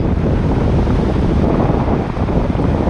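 Strong wind and sea waves at Bang Saen beach in Thailand, a loud continuous roar of surf mixed with heavy wind buffeting against the microphone, steady with no talk.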